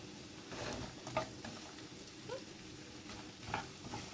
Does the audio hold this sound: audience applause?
no